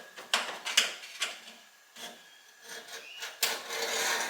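Metal scribe scraping along the edge of a steel car body panel pressed into place for TIG welding, giving several short, close scratchy strokes with brief pauses and a longer rasping pass at the end.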